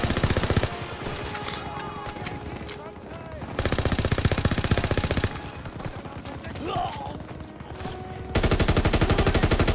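Rapid automatic gunfire from a World War II–era weapon in the shooter game Call of Duty WW2, loud sustained bursts with short pauses between them, alongside other battlefield noise, with a voice talking over parts of it.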